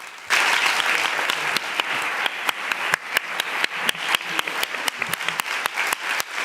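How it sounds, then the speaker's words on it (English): A press conference audience for the film Flores para Antonio applauds the film team, a burst of clapping that settles into steady, rhythmic claps near the microphone. "A big round of applause for the whole team of the film"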